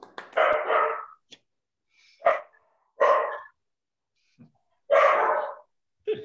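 A dog barks in several loud, close bursts with pauses between them, indoors after a talk.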